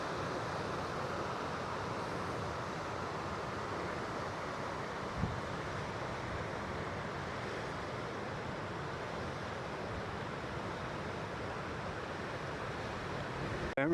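Steady, heavy wind noise roars across the microphone throughout at a wild camp in the Lake District, a constant broadband rush with a brief bump midway and a sharp knock at the very end.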